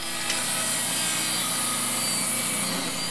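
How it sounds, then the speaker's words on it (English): A handsaw cuts through a board of pine, giving a steady, dense rasping stroke up close that runs without a break and with no talking. "Didn't feel like bringing a chop saw for one cut, so use a handsaw."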